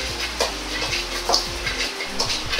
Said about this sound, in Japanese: お玉で油とザラメを混ぜながら合わせていきます。